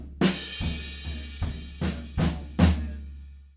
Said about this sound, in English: one little fill that sneaks in there about halfway through that big last section